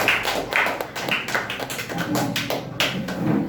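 Steady clapping from an audience at a children's public speaking competition, crisp close claps in a continuous patter with faint voices underneath.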